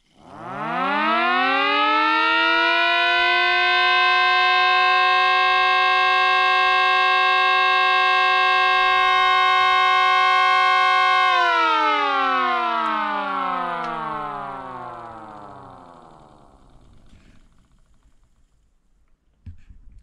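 A prototype Mini H.O.R. Model 50 Super Sirex motor-driven siren winds up to a loud, steady harmonic wail, holds it for about ten seconds, then slowly winds down, falling in pitch and fading out alone.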